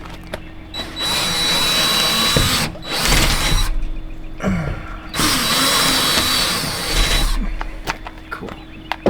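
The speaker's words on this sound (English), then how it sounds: "I'm glad you have a nice long drill bit." A power drill with a long bit bores into wood during an RV step installation on a box truck camper, running in two sustained bursts separated by short pauses, with a few clicks and handling noises afterward.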